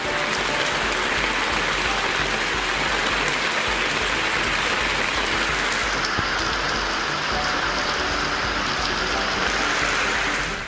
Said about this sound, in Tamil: கனமழை பெய்ததால் சாலையின் தாழ்வான பகுதிகளில் தண்ணீர் பெருக்கெடுத்து ஓடியது